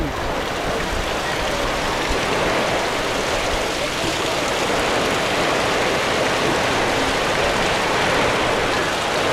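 Heavy monsoon rain pouring down over a Konkan market, a dense, loud, unbroken hiss of rainfall drumming on surfaces, with faint voices beneath it throughout.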